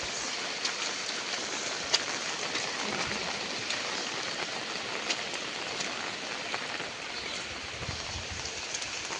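Steady rain pours down across a village in the Kokan countryside during the first monsoon shower, a dense, even hiss with scattered drips and splashes that stays constant throughout.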